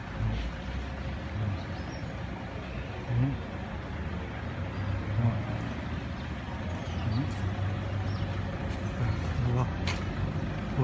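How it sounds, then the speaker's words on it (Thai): Roadside ambience at a PTT gas station in Nong Khai, with heavy vehicles rumbling and idling nearby and a steady low traffic drone. Someone talks over it. "นี่แหละบรรยากาศอยู่ ปั๊มน้ำมัน เนาะ อยู่ปั๊มน้ำมัน ปตทหนองคาย"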